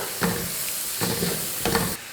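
Chopped carrots and green beans sautéing in a pan, with three bursts of stirring and scraping over a steady soft sizzle, close and fairly quiet.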